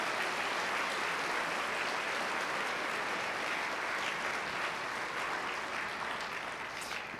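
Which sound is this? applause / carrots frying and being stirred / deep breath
applause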